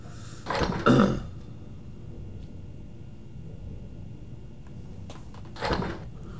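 An automatic door in the Empyrion space-survival game, two short mechanical whooshing slides a few seconds apart, one opening and one closing, fairly close against a quiet background.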